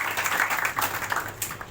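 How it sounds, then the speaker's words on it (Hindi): Audience applause at a maths quiz result and prize distribution program, a steady dense wash of many hands clapping close by, sustained throughout without pause. "ताली बजाइए।"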